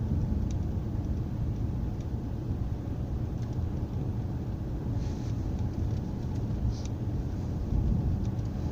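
Car slowing gently under light braking, then turning at low speed onto a lane, heard from inside as a steady low rumble of engine and road noise, continuous with no sharp events.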